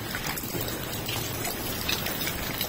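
Water gushes out of a hose on a Benguet farm in a steady, close splashing stream that runs unbroken throughout.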